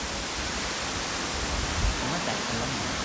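A waterfall at Cibodas rushes in a dense, unbroken roar of falling water, loud and even throughout, with faint voices nearly buried underneath.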